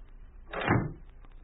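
In a radio drama, a door closes, a single muffled swinging thud with a brief swell that fades out into a quiet room.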